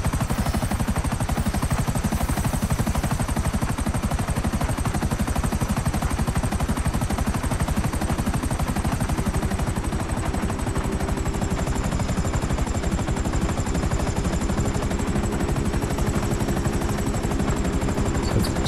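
Helicopter rotor and engine noise from the video game Grand Theft Auto V, a loud, steady, continuous roar with no one talking.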